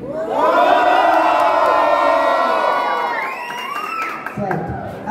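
A live audience at a music show with a judge shouts and cheers loudly, a sustained mass of voices and whoops that begins to fade near the end.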